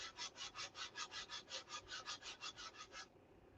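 Hand-sanding fine details on a wooden model aircraft part at a workbench: about fifteen steady, rhythmic back-and-forth rasping strokes, close and even, then a quiet pause at the end.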